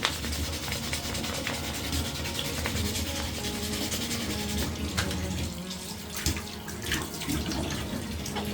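A resin print being wet-sanded with 400 grit sandpaper, a continuous watery rubbing and swishing with a few clicks and bumps, close and steady, no speech.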